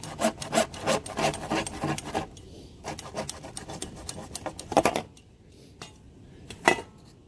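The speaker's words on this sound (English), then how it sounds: "Go ahead and cut that pipe off." A hand saw cutting through a plastic pipe in a crawl space, a series of rhythmic rasping back-and-forth strokes, close and clear, with short pauses between bursts.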